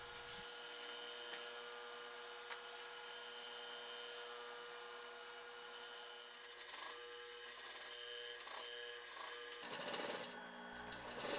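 A sewing machine stitches seams through a large piece of upholstery material for a surrey carriage top, a faint continuous mechanical whir that runs throughout.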